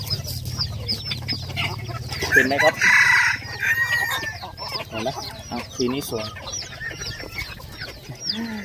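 A white-eared ornamental rooster crows loudly and nearby while ornamental chickens cluck around it, and someone talks over the birds throughout.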